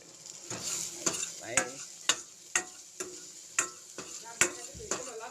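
A spoon stirs soybean bhaji frying in a pan, scraping in a steady rhythm of sharp clinks every half second or so over a constant sizzle.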